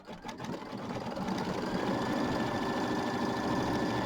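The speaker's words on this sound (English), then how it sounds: "So now we're going to do the cute little quilting here." A sewing machine stitches a quilting design on a small quilt, its steady rapid motor hum and needle chatter building up and then running continuously and fairly close.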